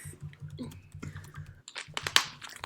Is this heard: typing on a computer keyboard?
yes